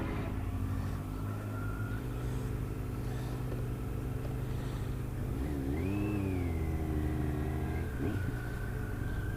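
A Ducati motorcycle engine hums steadily while riding toward Ducati Nottingham, with a sweeping rise and fall in pitch midway as the rider revs through a gear change, then settles back to a steady drone.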